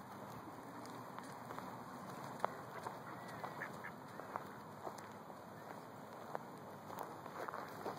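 Ducks quack at a pond, scattered short calls near and far over steady outdoor background noise, while bread is being handed out to them.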